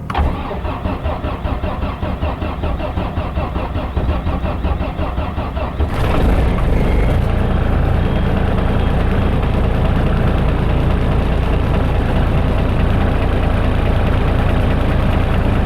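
A car engine cranks with a rapid churning whirr, catches after about six seconds with a roar, then settles into a steady, loud, close idle.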